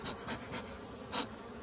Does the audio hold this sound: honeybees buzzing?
yes